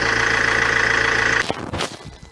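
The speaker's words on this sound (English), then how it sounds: "just going to give the engine a little bit of time just to warm up slightly" An Alfa Romeo 159 engine with a glow-plug fault idles steadily while warming up, a close, even rumble that cuts off abruptly, followed by brief handling noises.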